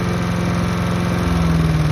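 A Gardenbaut wood chipper's small engine idles steadily up close, a continuous throbbing hum with a slight shift in pitch partway through and no talk over it.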